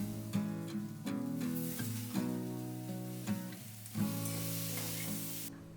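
Cauliflower, chopped onions and potatoes with salt sautéing in a pan, a steady close sizzle with occasional stirring scrapes, partly under background music.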